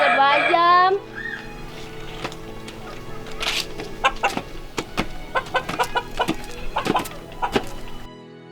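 Chickens cluck in short, scattered bursts close by, mixed with some household noise after a brief voice at the start.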